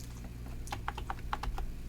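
Computer keyboard typing in an Excel spreadsheet exercise, the F4 key and others pressed in a quick run of about eight crisp, close clicks over a low steady hum.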